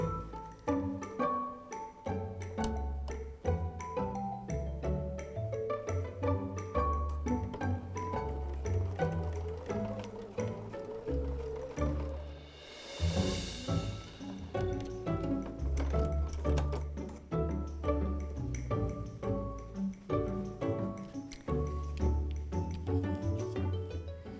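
A sewing machine stitches quilt block pieces for a Christmas sampler panel in a steady fast run of needle clicks, pausing briefly midway before starting up again.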